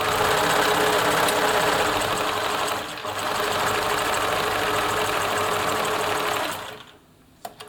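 A Bernina Nova 900 electronic sewing machine stitches fabric at a fast steady whir, loud and close, with a short break near the start before running on and stopping abruptly, followed by a faint click.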